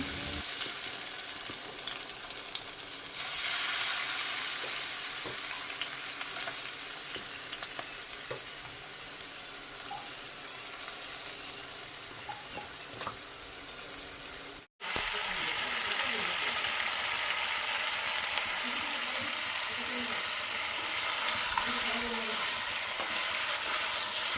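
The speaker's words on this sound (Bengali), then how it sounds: "আমি চিকেনগুলো একটা একটা করে দিয়ে ফ্রাই করে নেব এবার" Raw chicken pieces added one by one to hot oil in a pan, frying with a continuous loud sizzle and crackle close by for a long stretch, briefly cutting out midway before resuming even brighter.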